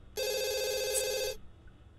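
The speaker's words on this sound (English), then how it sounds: "answer this phone real quick" A house telephone in The Sims 2 video game rings with one steady electronic bell tone lasting about a second, clear and alone over faint background hum.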